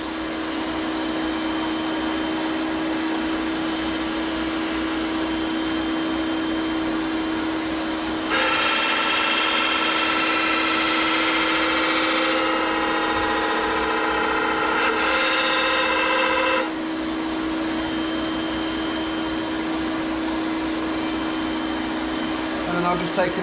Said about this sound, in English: I then just move the crank grinder to just both fillets.